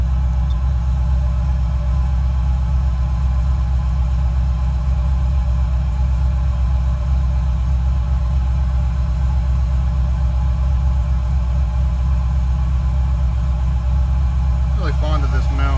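A tuned truck's engine while driving, a loud, steady low rumbling drone that holds constant throughout, heard from inside the cab.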